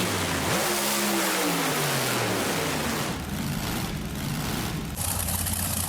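A monster truck's engine in BeamNG.drive revs hard over a dense, steady roar, its pitch sweeping up and then falling away, loud and close with no talking.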